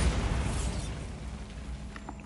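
A Bombarda spell blast in Hogwarts Legacy: a loud, broad explosive burst at the start that rolls off into a decaying rumble, with a few faint clicks near the end and no talk.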